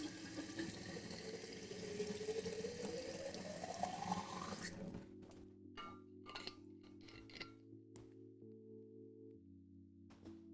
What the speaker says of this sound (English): I'm just gonna go fill up some water again.